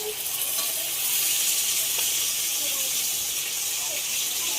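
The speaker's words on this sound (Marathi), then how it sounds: "आणि मच्छी आपली इथे फ्राय होते" Kupa fish fries in a hot pan of oil with a steady, close hiss and crackling sizzle that holds throughout, with occasional small pops.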